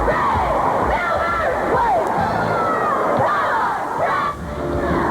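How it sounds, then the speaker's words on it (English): Loud, steady crowd noise fills a packed gym at a 1998 high school basketball district championship in Scranton, with cheerleaders and fans shouting and cheering continuously, whoops rising out of a dense babble of voices. "Great crowd on hand here in Scranton. Cheerleaders are making noise."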